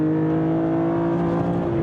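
A BMW E46 M3 engine screaming at high revs toward 8,000 RPM, a loud, continuous, tightly pitched howl held steady throughout.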